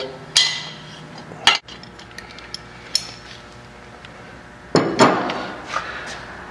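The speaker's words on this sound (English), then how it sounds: "Loosen up the top motor mount bolts." Sparse metallic clanks and clinks come from tools loosening the top motor mount bolts on a Harley-Davidson with a Fuel Moto 107 big bore engine, as scattered close hits separated by quiet gaps, with no speech.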